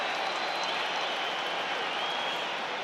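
A packed Twickenham Stadium crowd roaring during an England versus New Zealand rugby match, a steady, dense wash of distant crowd noise sustained throughout at even volume.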